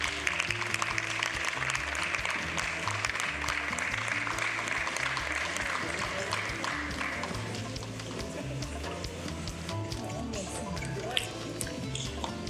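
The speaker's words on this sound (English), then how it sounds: "A round of applause for him" Audience applause at a formal gender equality and energy transition event, honouring a state health minister: dense, steady clapping from a large crowd fills the whole stretch at an even level, easing slightly toward the end.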